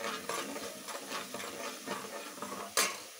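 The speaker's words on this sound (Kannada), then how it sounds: "ಈರುಳ್ಳಿ ಫ್ರೈ ಆಯ್ತಾ ಇದೆ. ಈಗ ಸ್ವಲ್ಪ ಅರಿಶಿಣ ಹಾಕ್ಕೊಳ್ತಾ ಇದ್ದೀನಿ." Onions fry with turmeric for a village-style chicken gravy while a spoon scrapes the pan in a rhythmic series of stirring strokes over a soft, fairly quiet sizzle, with one louder scrape near the end.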